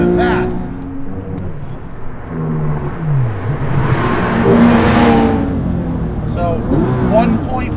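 The 4.0-litre engine of a Porsche 997 GT3 RS revs on track, dipping and then climbing steadily in pitch into a loud, high, whirring wail that holds near full volume.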